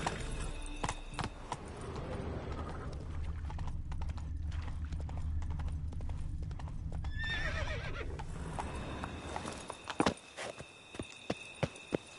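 Roach the horse gallops in The Witcher 3: Wild Hunt on PS5, with rapid, continuous hoofbeats close by and a whinny partway through before the pace slows into scattered steps.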